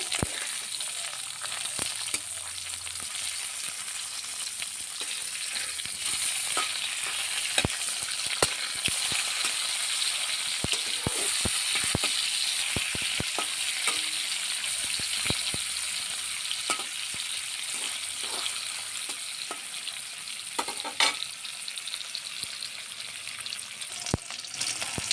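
Fish sizzles and crackles in hot oil in a pan, a steady dense frying hiss punctuated by sharp pops and spatters, with occasional stirring, no voices.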